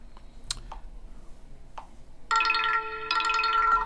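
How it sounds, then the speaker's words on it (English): A few soft clicks and taps, then a bright electronic ringtone melody plays from a UMIDIGI Note 100 5G phone's small speaker, clear and close, repeating its short phrase. "Decent speaker for ringtones and things like that."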